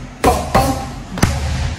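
Three sharp thuds of a kick striking a pad, two close together and one after a pause, each cracking out over quiet room ambience.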